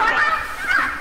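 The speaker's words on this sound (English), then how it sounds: "That's the bird. That's Mama Birdie." A large bird in the game Indigo Park honks twice, loud and close, with nasal goose-like calls separated by a brief pause.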